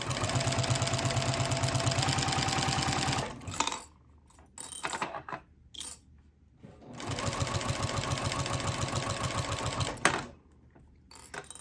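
A sewing machine back-stitches a vinyl project bag, two close bursts of rapid mechanical stitching separated by a pause filled with small clicks and handling noise.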